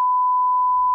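A single continuous censor beep, a steady pure electronic tone held for about a second, loud and clean, with faint traces of a voice beneath it.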